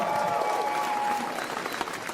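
Audience applause at a stand-up comedy show, a dense wash of clapping that fills the whole short stretch at a steady level and thins slightly toward the end.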